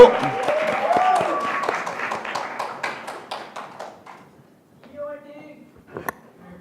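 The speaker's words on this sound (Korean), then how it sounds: "박수로 맞이해 주십시오" Audience applause at a youth speech contest preliminary welcomes a high school speaker, with rapid clapping that fades out over about four seconds, followed by near silence and a couple of faint knocks.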